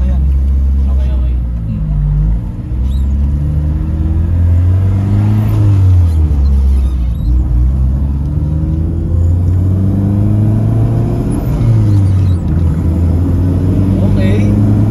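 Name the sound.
K24-swapped Honda Civic engine revving and accelerating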